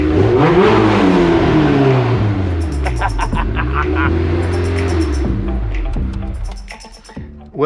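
A Honda S2000 with a built K24 engine revs and accelerates hard, its loud engine tone sweeping up and down through several gear pulls, with brief talk inside the car before the engine note eases off near the end.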